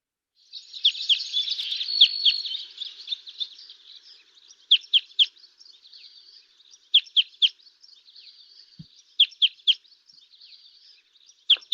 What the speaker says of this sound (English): I would call it the eclectic crossbill.